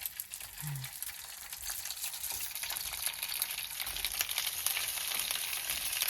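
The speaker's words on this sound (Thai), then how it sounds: "ทอดมันก่อนนะคะ แล้วค่อยใส่ไข่" Food frying and sizzling in a pan at a campsite, with steady hiss and crackle throughout and occasional stirring, no talk.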